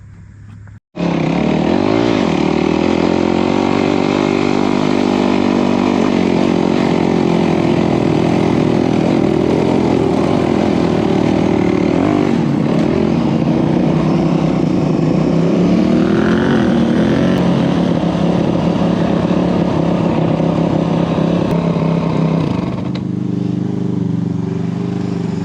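A turbocharged, tuned Honda Talon side-by-side at an off-road park in Kentucky runs loud and close, its engine note climbing and falling through repeated revs over a steady rumbling drone for nearly the whole stretch.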